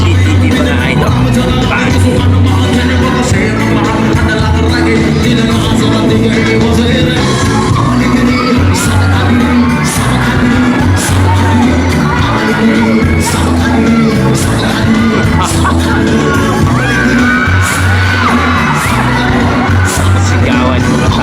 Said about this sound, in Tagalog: Sigawan mga tao